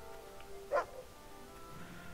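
In the Fable II video game, a dog gives a single short bark, faint in the background, against a quiet low hum.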